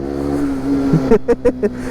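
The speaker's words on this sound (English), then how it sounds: "the sound of the engine doesn't sound like a 125. It is buzzy, but it has more of a deep tone to it" SYM NH-X 125 scooter engine held high in the revs at wide open throttle, a buzzy yet deep-toned drone with several quick throttle blips near the end.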